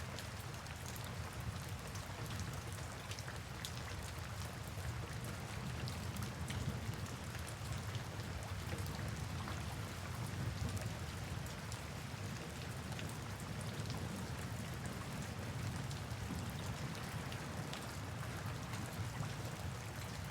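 Steady rain falling at night, a dense continuous patter of drops with no break, evenly loud throughout and no voices.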